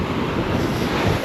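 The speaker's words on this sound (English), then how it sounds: "it's only little waves." Small waves washing onto a beach, a brief close burst of surf wash with strong wind buffeting the microphone, no talking.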